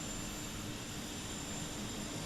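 Simulated V-22 Osprey tiltrotor engines running in a freeware flight simulator game: a constant, loud, dense turbine roar and whine with no breaks or changes.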